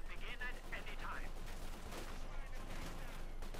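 Bursts of rifle and machine-gun fire crackle through a World War II battle in Company of Heroes 2, the steady din of combat running under a caster's ongoing commentary.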